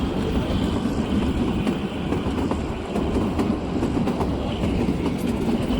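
Kalka–Shimla toy train running on a mountain track, a steady loud rumble of wheels and carriages from onboard with faint rhythmic clacking throughout, no talk.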